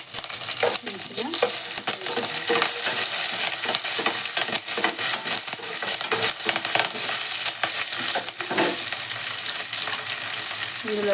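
Green chillies and curry leaves sizzle steadily in hot oil in a pan, with repeated scraping and stirring strokes from a spoon, loud and continuous throughout without any voices.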